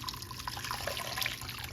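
Water pours steadily into a pot holding a venison pot roast, a continuous close splashing trickle that runs without a break and with no voices.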